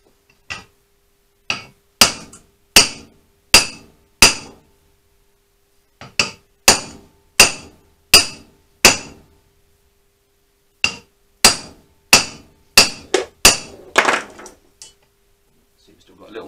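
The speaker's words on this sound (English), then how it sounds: "Let's try a different hammer." A steering head bearing on a Honda CBR400 track bike is driven into place with a hammer in sharp metallic strikes, grouped in quick runs of several blows with short pauses, loud and close, and no talk.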